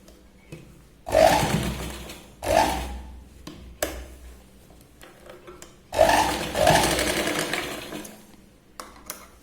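A sewing machine runs in short, surging bursts while stitching piping onto a katori blouse, with two main pairs of runs and rubbing fabric sounds in the gaps.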